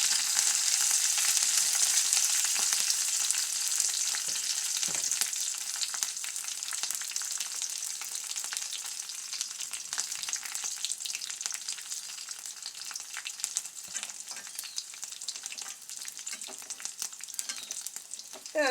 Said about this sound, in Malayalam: ഞാൻ കരിവേപ്പിലയും കൂടെ ഇട്ട് കൊടുക്കുകയാണ്.